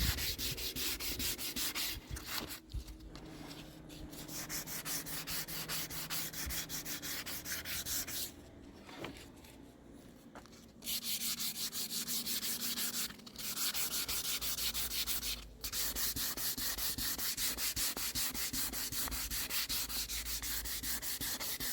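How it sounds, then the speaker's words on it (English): A wood surface being hand-sanded with the grain before applying wood sealer: steady, close, scratchy rubbing strokes that run nearly continuously, broken by a few short pauses, with no talking. "you sand with the grain"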